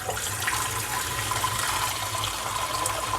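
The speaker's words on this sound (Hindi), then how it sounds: "हम सबसे पहले एक बर्तन में पानी लेंगे।" Water poured into a vessel, a continuous gushing, filling stream at moderate level, close and steady with no talking.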